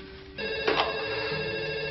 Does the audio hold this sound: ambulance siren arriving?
no